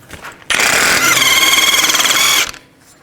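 Pneumatic impact wrench with a 32mm socket spinning off the front axle nut of a 2004-08 Nissan Maxima, one loud rattling burst of about two seconds, close by, with quiet before and after.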